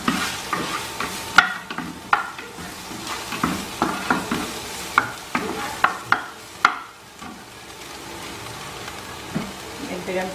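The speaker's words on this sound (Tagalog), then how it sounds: "gigisa na po natin siya dito sa bawang niya." Chopsuey vegetables and garlic sauté in an oiled pan, a steady sizzle broken by frequent sharp clinks and scrapes of a spatula stirring, close and moderately loud throughout.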